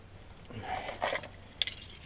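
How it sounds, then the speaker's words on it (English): A small bunch of keys jangles and clinks in brief, quiet bursts close by, with no talking. "Need my keys."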